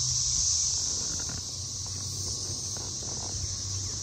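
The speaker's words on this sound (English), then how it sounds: "It's like the cicadas hear me talking. So they start screaming louder." Cicadas buzzing in a garden in early May, a steady high-pitched droning chorus that holds throughout, moderately loud, with faint rustling underneath and no talk.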